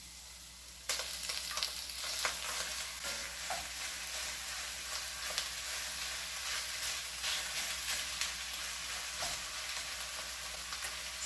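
Ground beef browning in a pan, starting abruptly with a steady close sizzle broken by repeated scraping and stirring strokes, no voices.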